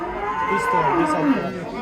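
A dairy cow gives a single drawn-out moo at a cattle market, loud and close, with a faint murmur of people in the background.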